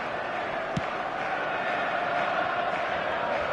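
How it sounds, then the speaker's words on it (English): Stadium crowd noise from an eFootball league match: a steady, subdued murmur of spectators with one brief thud, no clear cheering. "the crowd have tried to spark some excitement, but to no avail"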